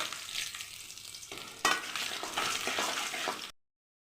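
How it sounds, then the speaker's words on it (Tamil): Urad dal browning in hot oil with dried chillies, a close, steady frying sizzle that flares louder when something is added, with a light stir before it cuts off abruptly. "கொஞ்சம் ப்ரௌன் கலராக வர வச்சு வதக்கிக்கலாம். காஞ்ச மிளகா போட்டுக்கலாம்."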